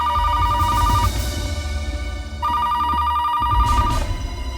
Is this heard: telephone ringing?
yes